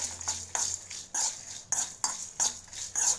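Coriander and cumin seeds dry-roasting in a pan while a metal spoon stirs them, giving about eight rhythmic scraping strokes with light clinks and a faint rattle of seeds, close and clear, with no talking.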